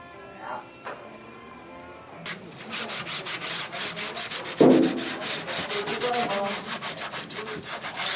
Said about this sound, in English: is the sanding to prepare it for the final color?